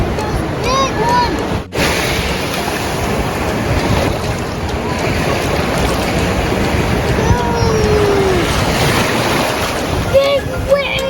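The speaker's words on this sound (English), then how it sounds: "Big waves! We're floating in the sea!" Ocean waves wash and surge at a beach in a steady broadband roar with strong wind buffeting the microphone, while faint voices and occasional high squeaks sit under the water noise.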